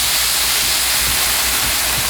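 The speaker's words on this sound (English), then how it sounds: "add the tuna on top, and we're going to go ahead and cook that" Tuna cooking in a pan sprayed with Pam gives a steady, loud broadband hiss that holds unbroken for the whole stretch, with no voices.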